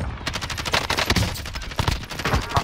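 Rapid automatic gunfire from the battle royale video game Warzone, dense bursts of shots crackling continuously throughout, loud and close with no talk over it.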